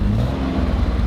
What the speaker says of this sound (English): There's the old engine running.